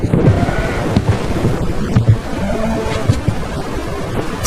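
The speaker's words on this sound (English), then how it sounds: "The rain fell, and the fountains of the deep opened until the waters covered all the high hills and even the mountaintops." Heavy rain and thunderstorm effect in a cinematic telling of Noah's flood, with a dense rushing rain wash and low rolling rumbles of thunder, loud and continuous.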